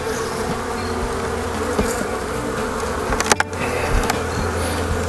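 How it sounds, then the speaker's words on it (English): A dense, steady buzz of many bees swarming close by, with a few sharper clicks and knocks partway through; no voices. "we'll just shake these extra bees off"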